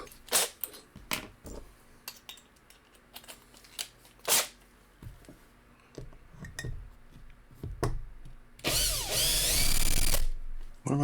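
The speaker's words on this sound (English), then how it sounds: "Let's go ahead and get this one drilled out." Short bursts of a power drill boring into a Hot Wheels diecast car, several brief whirring runs separated by pauses and handling clatter, ending in a longer, louder sustained drilling pass; the drilling is close and loud.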